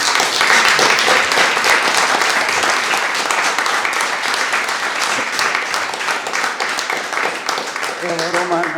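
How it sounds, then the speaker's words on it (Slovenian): Loud, sustained audience applause fills a nostalgic evening presentation at the Slamnikarski muzej in Domžale, a dense wash of clapping that continues throughout, with a voice starting to speak near the end. "aplavz je bil kar pravi"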